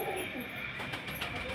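Racer pigeons, a male and a female, coo at a pigeon seller's stall in Beldanga, a short throaty coo set against a busy background hum, fairly close.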